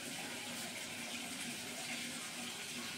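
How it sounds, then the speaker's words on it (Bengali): Old, blackened engine oil from a KTM RC 200 BS4 motorcycle pours out during a service, making a continuous, faint, gushing trickle like liquid running from a tap, with no talking. "এটা খুলে ইঞ্জিন অয়েলটা ঢালতে হবে"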